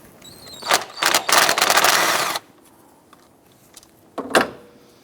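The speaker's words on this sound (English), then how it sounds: "I want to go ahead and remove this bolt." A bolt is worked out of a power steering pump on a 2005–2009 Subaru Outback with a ratcheting tool, giving close clicking bursts, a sustained rapid ratchet run, then quiet and a final pair of metallic clicks.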